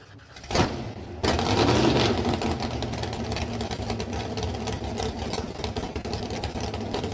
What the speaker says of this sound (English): Jerry Humphrey getting the bye run in the red Camaro